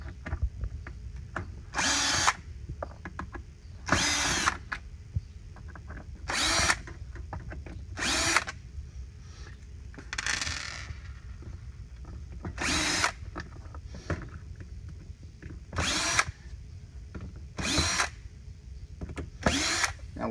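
A power drill backs screws out of an upturned CycloMop mop bucket in a series of short whirring bursts, each a second or so long, separated by quiet gaps and faint handling noise.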